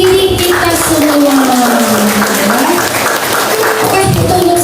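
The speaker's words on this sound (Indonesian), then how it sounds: "tepuk tangan untuk diri kita semua" Attendees at a parenting seminar held at a senior high school clap loudly and continuously for themselves, with a sustained tone or voice running beneath the applause.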